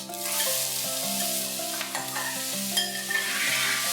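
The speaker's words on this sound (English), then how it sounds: "We have to saute these onions till they are beautiful, golden and crisp" Chopped onions sauté in a pan with cardamom, cloves, peppercorns, bay leaves and shahi jeera for chicken keema biryani: a steady, moderately quiet sizzle with occasional stirring scrapes and no talking.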